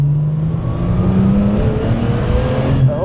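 A Porsche 993 GT2 tribute's engine pulling hard up to about 5,000 RPM from inside the car, a loud, continuous mechanical drone whose pitch climbs steadily with road and wind noise underneath.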